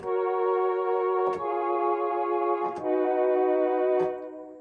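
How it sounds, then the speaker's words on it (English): A synthetic choir voice on a Technics AX7 keyboard holds sustained chords, changing every second or so, with brief clicks between the chord changes. "How about some vocal choir?"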